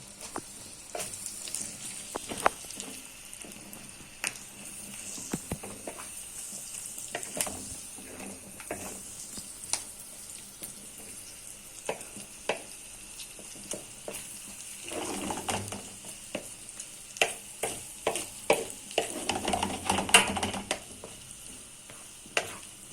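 Liver sautéing in a pan for Gaziantep-style paf ciğer kavurma crackles with a soft, steady frying hiss broken by scattered scraping stirs and clicks, growing busier and louder toward the end.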